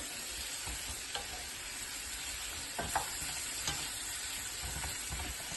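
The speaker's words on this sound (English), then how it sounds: "Mix it all up. It's cooking nicely." Octopus stew with pre-cooked carrots being stirred in a pot: a soft continuous sizzle with scattered scraping and knocking stir sounds, close and fairly quiet.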